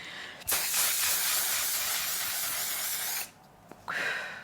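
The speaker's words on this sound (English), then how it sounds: "It has to be this specific setting spray, by the way." Setting spray misted from a pump bottle onto a face: one close, steady hiss lasting about three seconds, then a short quiet gap and a brief second burst of spray.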